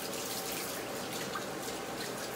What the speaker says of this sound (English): Just going to rinse some of this extra.